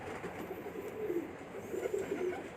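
Pigeons coo softly at a rooftop loft, low rolling calls repeated in a few faint phrases against a quiet background.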